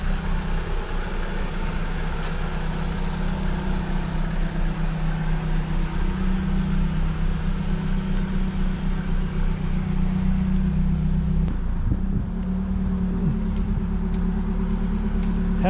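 A Toyota Caldina drives up a street to bed in its brakes, a steady low engine drone heard from nearby, with a brief shift in tone toward the end as it slows.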